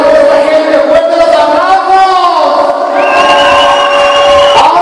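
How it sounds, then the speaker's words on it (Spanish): A crowd at an outdoor Venezuelan string band performance in Calixtlahuaca cheers and shouts loudly, voices raised in a dense sustained roar with long sung or yelled tones layered over it. "yo quiero que me regalen un fuerte aplauso"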